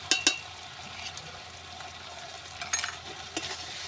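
Chicken kosha frying in oil, stirred with a few sharp scrapes at the start and near the end over a soft, steady sizzle, no voices.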